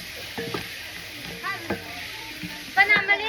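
Onions, tomatoes and spice powders sauté in a pan for chicken liver curry, a soft continuous sizzle with brief stirring scrapes and clinks, close and moderately quiet.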